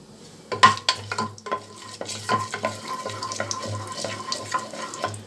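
Cinnamon, cardamom, cloves and fenugreek frying in a pan, scattered light crackles and pops with scraping stirs over a soft sizzle, close by and without talk.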